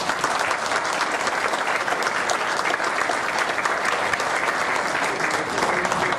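Sustained, dense applause from an audience at a book presentation event, loud and steady for the whole stretch with no pauses.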